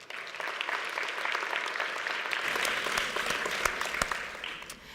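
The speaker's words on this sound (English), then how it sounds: "Please, a round of applause as we welcome Mr. Kimi Makwetu" An audience claps continuously to welcome the Auditor-General to the stage at a public-sector finance careers event, a dense, sustained round of applause without speech over it.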